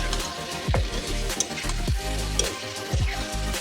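Chicken pieces fry in a spiced masala for a white chicken curry, giving a steady, close sizzle with a few brief stirring scrapes and no talking.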